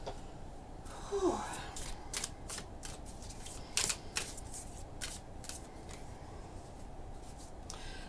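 Tarot cards are shuffled close by in a quiet room, a soft steady riffle of rapid papery flicks running throughout, with a faint sigh near the start.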